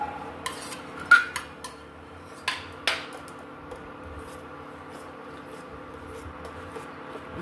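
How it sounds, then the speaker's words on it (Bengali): A spoon scrapes and taps against a metal pot while custard powder is stirred into boiling milk, with a few sharp clinks in the first three seconds followed by softer, quieter stirring over a low background hum. "ভালো করে এবার নাড়াচাড়া করে নিচ্ছি।"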